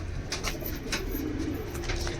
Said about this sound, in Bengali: এই যে মীরাওয়ালা কবুতর বন্ধুরা